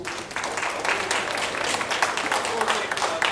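An audience at a teachers' data analysis workshop breaks into steady applause, many hands clapping together at a moderate distance for a few seconds with no break.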